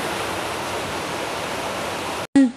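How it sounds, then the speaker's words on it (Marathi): A downpour of heavy rain on waterlogged streets roars as a constant, loud wash, then cuts out abruptly near the end before a brief tonal sound. "पावसाचा आवाज तुम्हाला येतच असते"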